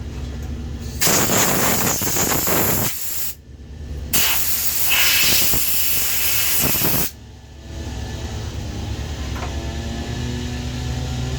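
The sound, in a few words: compressed air blown into STIHL MS 290 carburetor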